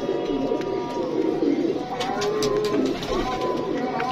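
Rampuri pigeons coo in soft, repeated low rolling calls, close by, with occasional higher chirps and faint background voices mixed in.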